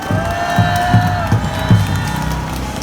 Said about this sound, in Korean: 우리 미디어워치 변희재 대표님에게 뜨거운 박수 한번 부탁드리겠습니다.